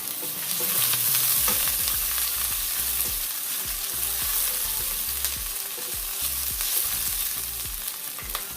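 Ginger dropped into hot oil for orange chicken sauce sizzles loudly and continuously, a dense close-up frying hiss with light stirring scrapes and no voices.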